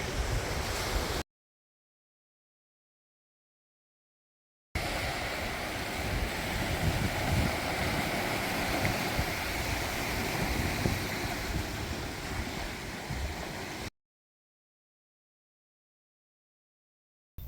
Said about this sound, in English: Nice waves.